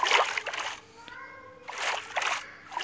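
Swimming splashes in a Minecraft-style video game: two bursts of watery sloshing, close and bright, separated by a short quieter gap.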